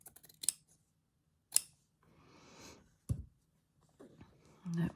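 Scissors snip through Japanese rice bag fabric near the selvage edge in a few sharp, separate cuts close by, with soft rustling of the cloth between them and no talking.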